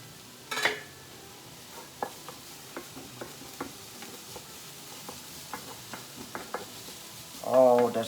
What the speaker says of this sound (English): so now I'm going to add the garlic